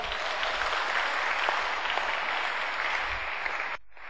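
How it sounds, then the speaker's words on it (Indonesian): An audience at a seminar on love, sex and dating applauds in a dense, steady wash of clapping that holds evenly, then cuts off abruptly near the end. "Tepuk tangan."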